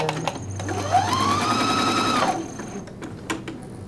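A sewing machine runs a narrow stitch on knit fabric, a steady whirring motor buzz lasting about a second and a half before stopping, close and clear with no talk.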